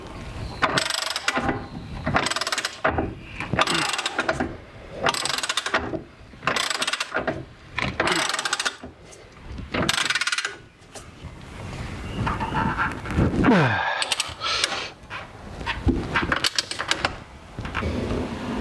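A torque wrench tightens the thrust arm bushing bolts on a Porsche GT4, giving repeated bursts of ratcheting clicks in a steady rhythm, close and fairly loud, with brief pauses between strokes and no talking.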